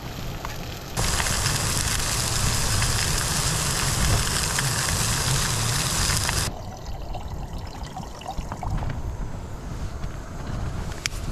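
Water poured from a container into a camping pan outdoors on a cold winter fell, a steady close trickle for about five seconds before it stops, leaving quieter ambient noise.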